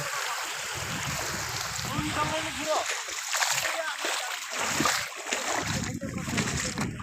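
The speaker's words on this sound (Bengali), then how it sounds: "ସେଇ ଦେଖ ଢେଉ" Waves slap and splash steadily against the hull of a small boat on open water, a continuous wet churn with wind and voices talking over it.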